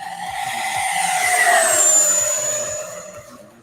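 Loud, sustained whine of an RC plane engine in a high-speed dive, rising in pitch and then falling as the plane passes, with no talk over it.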